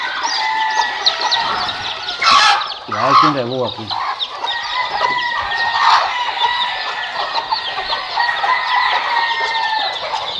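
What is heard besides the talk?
chickens clucking in coop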